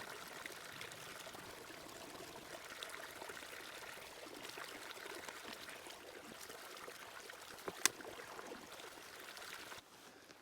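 Water trickles and pours steadily into water bottles being filled from an outdoor source on a backpacking trip, a soft continuous flow with a faint click near the end.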